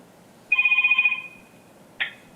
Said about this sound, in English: Phone call?